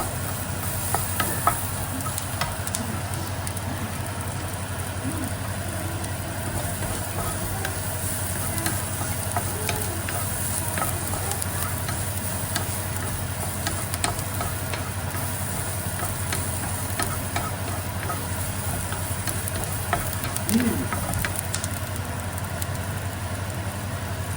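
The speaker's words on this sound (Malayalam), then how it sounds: "നന്നായിട്ട് ഇളക്കി കൂട്ടുക." Green peas curry being stirred in a pan, a steady hissing sizzle with faint scrapes, running continuously over a low background hum.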